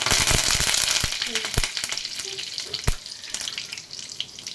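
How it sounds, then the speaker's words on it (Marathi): Cumin seeds and curry leaves hit hot oil in a home kitchen pan, giving a loud, crackling sizzle with sharp pops that settles into a steady fry. "तेल तापलेलं जिरे घालायचे कढीपत्ता घालायचा"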